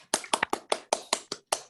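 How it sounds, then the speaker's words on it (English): Online meeting participants unmute to applaud after a fish life history research presentation, producing about eight sharp, evenly spaced claps close to the microphone, with no talking. "So we can unmute for a round of applause"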